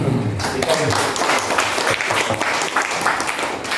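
An audience at a leadership training session applauds after a group presentation, a loud, dense round of clapping from many hands that stays steady to the end.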